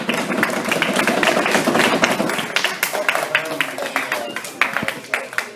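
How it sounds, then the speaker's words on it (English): Audience applause at a Delaware Futures gathering, a dense wash of clapping that holds steady for several seconds, with voices mixed into the crowd noise. "Give the man a round of applause, y'all."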